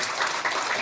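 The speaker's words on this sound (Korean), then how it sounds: "우리 경의의 박수 하겠습니다" A church congregation applauds at a New Year thanksgiving worship service, a brief, continuous, dense patter of clapping.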